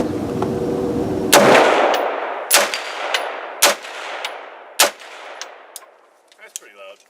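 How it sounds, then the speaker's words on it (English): An unsuppressed AR-15 rifle fires supersonic rounds outdoors, about five loud, sharp single shots spaced roughly a second apart, each with a ringing decay, with the last faint sounds tailing off. "It's the AR-15. This is shooting supersonic rounds, so this thing's loud to start with here"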